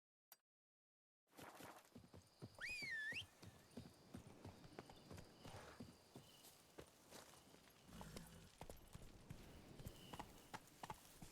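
In the Witcher 3 video game a horse's hooves clip-clop steadily after a brief silence, and a short whinny rises near the start. The steps keep a loose walking rhythm and stay fairly close throughout.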